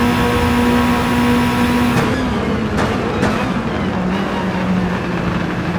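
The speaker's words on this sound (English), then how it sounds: "this car sounds really nice though" A race car engine in Gran Turismo 7 holds a steady, loud drone with a shifting pitch, dipping slightly and sustained throughout, with no voices over it.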